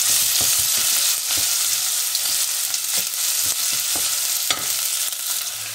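Food sautéing in a pan for an aloo palak dish crackles with a bright, continuous sizzle, punctuated by regular clicks and knocks from stirring, close and fairly loud.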